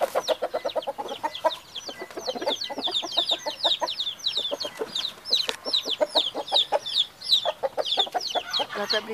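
Índio Gigante hens and roosters cluck in rapid, rhythmic bursts close by on a small farm, with several birds calling over one another almost continuously.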